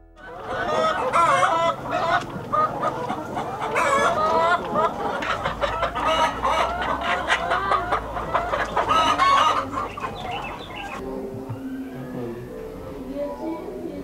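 Laying hens cluck busily on a poultry farm, and a rooster crows among them. The flock sounds close and loud for about ten seconds, then quietens while a voice talks under the remaining calls.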